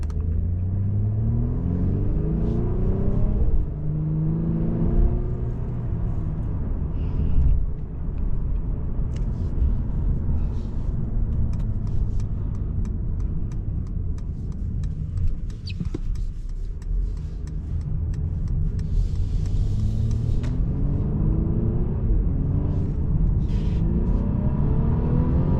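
Mercedes-Benz E 350 4MATIC sedan driving in Sport Plus mode, a steady low engine and road rumble with a few rising revs, heard from inside the cabin without talk.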